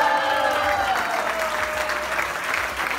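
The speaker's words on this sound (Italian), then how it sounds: "E un vostro applauso a René." Audience at an Italian comic show applauding a performer named René, with loud sustained clapping from a large crowd and a few faint voices mixed into the ovation.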